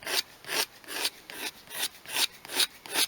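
Filler skimmed over cracks in a leather seat of a Toyota Gen 7 Celica, a close rhythmic rasping scrape repeated about eight times at an even back-and-forth pace.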